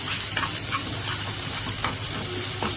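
Onions sauté in a pan for bheja fry, a constant close hiss of frying with faint stirring scrapes and a low background hum.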